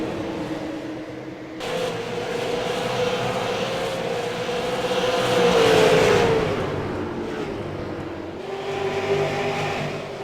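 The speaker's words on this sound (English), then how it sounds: "Ty Majeski running into heavy lap traffic now in turns 1 and 2." Super late model race cars roaring around Five Flags Speedway in lap traffic, a loud sustained engine drone with pitch sweeping as cars pass, swelling to a peak midway before easing and rising again.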